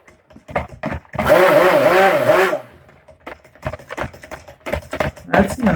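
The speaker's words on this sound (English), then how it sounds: "Now I'm going to blend up this other half with the titanium dioxide." A blender mixing hemp oil soap batter with titanium dioxide whirs loudly for about a second and a half, its motor pitch wavering, between quieter clicks and knocks before and after.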